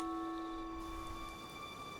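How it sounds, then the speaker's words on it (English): Rain falls in the video game Infinity Nikki as a soft, steady hiss beneath sustained, held musical tones, with no talking. "Ah, it's raining."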